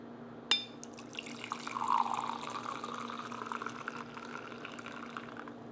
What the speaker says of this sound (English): now we have the fresh coffee, and we'll pour it into a cup